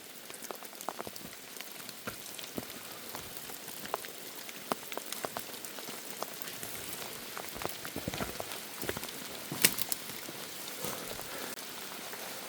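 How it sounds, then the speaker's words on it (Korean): Monsoon rain falls on a mountain forest on a southwest-facing ridge near the summit, a soft, steady patter of drops with scattered sharper taps, continuous and fairly faint, with no voices. "어휴, 비가 오니까는"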